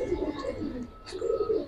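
Two silver-coloured pigeons, a male and a female, give low throaty coos close by in two soft bursts with a short gap between them, under light background noise.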